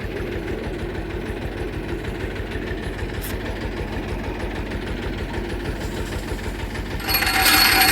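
A Kentavr 244SX tractor engine runs steadily close by with an even, continuous drone, and near the end a brief louder burst of rushing noise rises over it.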